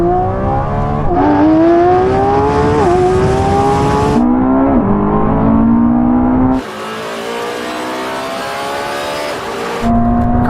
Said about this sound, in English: Now we're going to have a rolling race from 30 miles an hour.